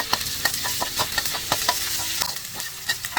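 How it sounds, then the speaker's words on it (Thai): Brisk scraping and clacking of a utensil stir-frying curry paste in oil in a hot wok, with a soft sizzle underneath and irregular taps throughout. "ผัดเป็นพริกแกงหอมเลยนะคะ"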